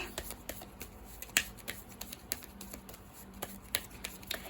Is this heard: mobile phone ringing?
no